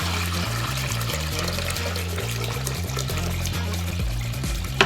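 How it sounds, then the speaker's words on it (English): Dirty water being dumped from a Kanga 600 carpet cleaning machine with a continuous flow heater, a steady close pouring and splashing stream running without a break and with no talk. "we then need to dump the water. Be careful with this, the water can come out fairly dirty."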